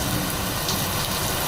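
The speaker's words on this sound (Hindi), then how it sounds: "कवर्धा में भी लगातार बारिश हो रही है" Rain falls steadily in Kawardha, Chhattisgarh during the monsoon, giving a dense, even hiss of drops on surfaces that holds at a constant moderate level throughout the brief stretch, with no voices.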